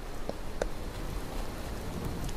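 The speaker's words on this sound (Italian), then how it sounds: "Non so se è pioggia normale o pioggia radioattiva, però piove" Steady rain hisses evenly throughout in the video game Fallout 76, with a couple of brief louder drips or taps near the start; no voices.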